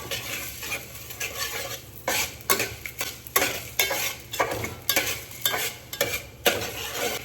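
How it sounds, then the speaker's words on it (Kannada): Whole spices, cinnamon, cloves and cardamom, frying in a pan, with a spoon or spatula stirring and scraping in repeated close strokes over a low steady sizzle; no talking. "ಮತ್ತು ಚಕ್ಕೆ, ಲವಂಗ, ಏಲಕ್ಕಿ ಒಂದು ಸ್ವಲ್ಪ ಫ್ರೈ ಮಾಡೋದು."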